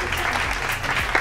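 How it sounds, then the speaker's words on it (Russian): Brief audience clapping for a group of young performers, a short burst of applause with faint voices underneath. "аплодисменты парнишкам"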